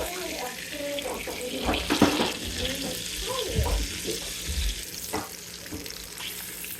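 Ground beef cooking in a pan, a wet, crackling sizzle with uneven stirring and scraping bursts, close and moderately loud, with some faint voice-like sounds mixed in.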